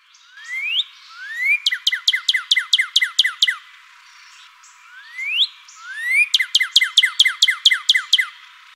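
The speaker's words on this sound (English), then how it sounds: "Northern cardinal." A northern cardinal call from a Nancy Drew game comes through loud and clean in two phrases, each opening with rising slurred whistles and then running into a quick, evenly spaced series of sharp descending chirps, with a short pause between.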